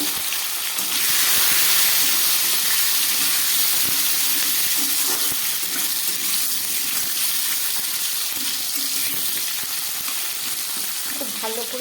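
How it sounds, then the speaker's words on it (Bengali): Potato and pumpkin frying in a pan with other vegetables, a loud, continuous hissing sizzle that holds steady throughout with faint clatter underneath. "আলুটা একটু ভেজে দিই আলু কুমড়োটাকে"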